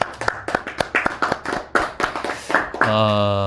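Sparse, uneven clapping from a small audience at a Korean Buddhist dharma talk, roughly a dozen sharp claps over about three seconds, then a sustained tonal sound takes over at the end.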